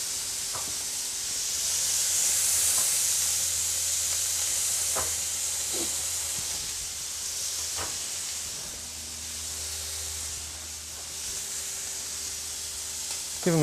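Lamb loin fillets sizzle in a pan, a steady soft hiss of frying fat running throughout at moderate level, with occasional faint clicks and scrapes of cookware in the background.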